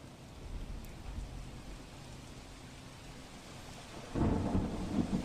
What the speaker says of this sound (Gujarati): વાવણી લાયક આ વરસાદ થઈ રહ્યો છે